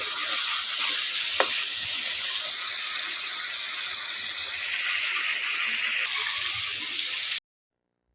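Meat with small potatoes cooking in a pan, giving a loud, steady frying hiss that holds evenly, with one brief knock early on, before stopping suddenly.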